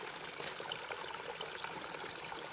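Rainwater streaming down a mountainside along the Ouachita National Recreation Trail, a steady close trickling and splashing with a bright, even babble and no voices.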